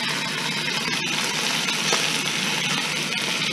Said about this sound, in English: in this pot that's set pretty hot. Just going to try to brown the skin.